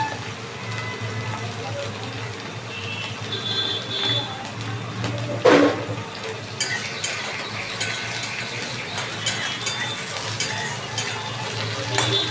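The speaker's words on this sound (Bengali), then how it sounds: "পেঁয়াজটা এবার আমি দিয়ে দিলাম তেলের মধ্যে" Chopped onion, cut from a medium onion, sizzles steadily in hot oil in a pan, with occasional scraping and clinks from a spoon stirring it, close and continuous.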